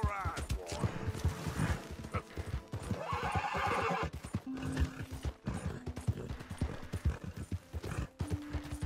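A horse in the Red Dead Redemption 2 video game whinnies loudly while hooves clip-clop and clatter alongside, with busy overlapping game sounds and a few short tonal blips throughout.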